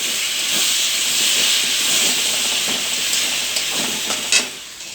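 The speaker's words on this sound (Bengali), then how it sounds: "টমেটো পেস্ট করে রেখেছিলাম সেটা অ্যাড করে দেবো এটাকে ভালো করে কষিয়ে নিতে হবে" Spices and tomato paste sizzle while frying for a mackerel fish curry, giving a loud, steady hiss with faint stirring scrapes and a brief clatter near the end, with no talking.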